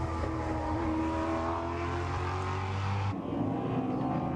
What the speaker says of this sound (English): The Ford GT of Milos Pavlovic heads down to the final corner.